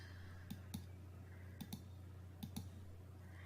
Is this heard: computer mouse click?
yes